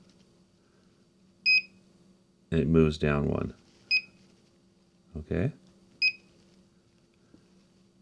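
Several short electronic beeps from an Antuner AT-100M Pro antenna tuner, spaced a second or so apart, with someone talking briefly between them over a low steady hum.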